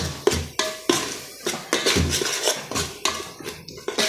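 A spoon knocks and scrapes around a pot while ground coriander, turmeric and garam masala are mixed into chicken curry, with a quick series of close metallic clinks and scrapes.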